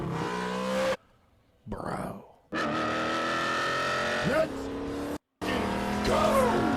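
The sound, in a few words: upgraded 1970 Plymouth Cuda engine revving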